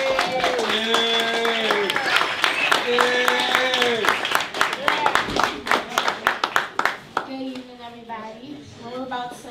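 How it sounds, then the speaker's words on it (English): Audience applause at a turkey drive community event, clapping running throughout beneath singing and speech, with sharper individual claps standing out near the end. "Can we give her a round of applause, please?"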